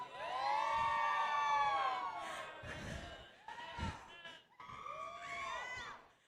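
Crowd at a game expo cosplay panel whooping and screaming in a large hall, loud sustained cheering that dips briefly then swells again in a second burst, with voices mixed in.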